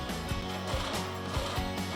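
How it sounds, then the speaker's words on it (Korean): An industrial sewing machine in a garment factory running in a quick, steady mechanical clatter, with rhythmic needle thumps over a whirring motor, close and continuous. "디지털 트윈 기술은 바로 이 재봉틀에 관한 것인데요"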